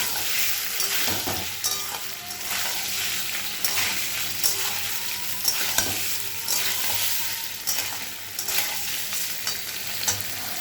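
Paneer frying with a little salt in a pan, a dense, steady close sizzle running throughout with occasional scraping stirs and soft knocks.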